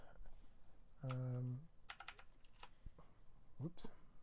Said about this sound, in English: And we can type in our